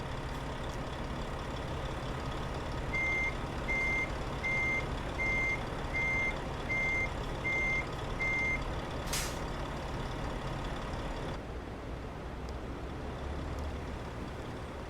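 A truck in Euro Truck Simulator 2 reverses, giving about nine steady, evenly spaced reversing beeps over a constant engine drone. A short hiss of air brakes follows, then the engine idles alone.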